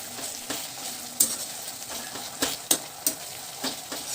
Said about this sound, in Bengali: ভালো করে নাড়াচাড়া করে নিয়ে টমেটোটাকে খুব ভালো মতো গলিয়ে দেব